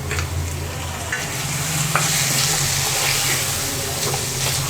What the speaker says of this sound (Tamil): நம்ம எடுத்து வச்சுருக்கிற 1/4 கிலோ சிக்கனை போட்டு நல்லா வதக்கிக்கலாம்